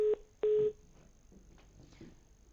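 Two short telephone line beeps, the second slightly longer, as a call disconnects, followed by faint low background murmur.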